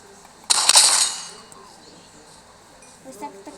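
A single sharp shotgun blast fired at zombies in Minecraft, loud and brief, followed by a fading tail and faint game noises.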